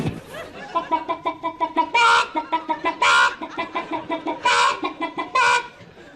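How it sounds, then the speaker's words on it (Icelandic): Hen clucking, a close, loud run of rhythmic clucks in quick pulses broken by several longer, drawn-out squawking cackles, with no talking over it. "Fugl dagsins var hæna."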